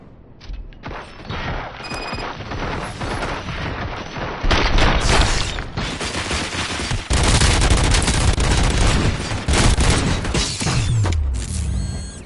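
Mechanical clanks and dense volleys of gunfire in the video game RoboCop: Rogue City, building to loud sustained shooting in the second half with booming impacts, almost no voices.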